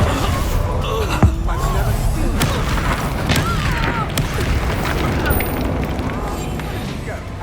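Incendio fire spell cast during a Hogwarts Legacy cellar duel, a loud whooshing burst of flame over a dense rumbling game soundscape, with a voice speaking over it.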